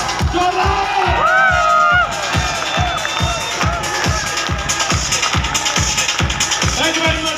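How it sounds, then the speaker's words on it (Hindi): A crowd in a hall cheers and whoops while rhythmic clapping pulses steadily underneath, loud and lively throughout, with voices shouting over it. "महागुरु जी के लिए जोरदार तालियां होनी चाहिए"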